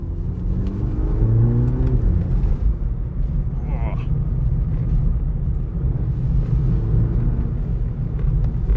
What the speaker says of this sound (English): Driving through a very rough road, as you guys can tell.